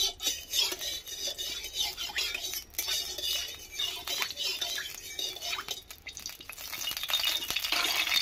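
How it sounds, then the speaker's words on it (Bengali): Prawns frying in mustard oil in a kadai, a busy sizzle with scraping and stirring of a utensil against the pan, close and continuous, rising toward the end. "এই কড়াইয়ে প্রথমে আমি চিংড়ি মাছটা ভেজে নেব।"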